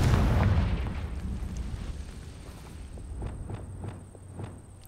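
A Confringo fire spell explosion in Hogwarts Legacy opens with a heavy, booming burst that fades into a lingering rumble, followed by a series of lighter thuds and crackles.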